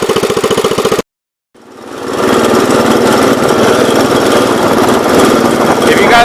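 A 1970 Gravely 408 walk-behind tractor engine, all white, idles with a steady knocking thump, cuts out for half a second, then restarts and settles into a loud, even running drone close by with wind noise.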